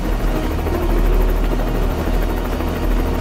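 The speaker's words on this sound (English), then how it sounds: "That's our chopper!" A helicopter's loud, steady rotor and engine roar with a low throbbing beat, close and continuous throughout, in a Dislyte Dusk & Dawn cinematic trailer scene.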